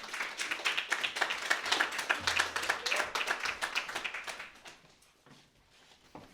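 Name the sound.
audience clapping for Michelle Neiman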